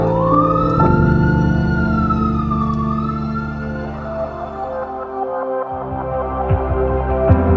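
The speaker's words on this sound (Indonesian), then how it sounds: "Hanya terdengar suara sirine yang sibuk berlalu lalang." Wailing emergency vehicle sirens echo through quiet, nearly empty city streets, one siren rising and falling loudly up front while other tones and traffic rumble linger beneath it.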